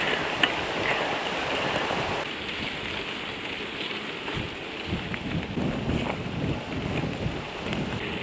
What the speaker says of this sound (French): La pluie a un peu ralenti.